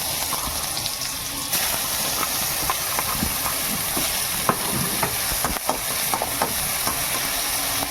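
Chopped ginger and garlic fry in hot oil with cumin seeds, giving a steady, loud sizzle and hiss with scattered stirring clicks throughout.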